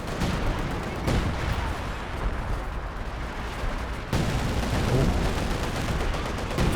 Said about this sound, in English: Zeroing artillery bombs doing a number on Kilder's units.